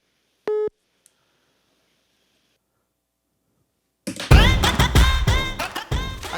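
A telephone busy tone right after an accidental hang-up: one short, clear electronic beep, then near silence, before a loud burst of unrelated sound cuts in.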